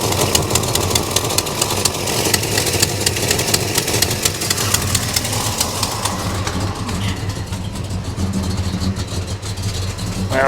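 A 1969 Chevelle SS with a non-stock engine runs at a steady idle, a loud close rumbling throb that holds evenly throughout.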